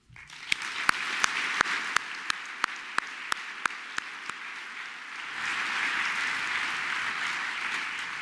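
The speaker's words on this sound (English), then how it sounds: "I hope you'll join me in another round of applause for the members of the Utah Symphony who played" At an evening civic awards gathering honoring Utah Symphony musicians, a nearby pair of hands claps sharply in an even beat, then a softer, broader crowd applause swells and carries on fairly quietly.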